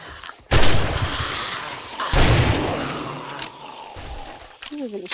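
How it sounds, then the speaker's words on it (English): Two heavy booming blasts from a sawed-off shotgun in 7 Days to Die, roughly a second and a half apart, each with a long rumbling decay, followed by brief faint game sounds. "this sawed-off shotgun does jack doodly squat"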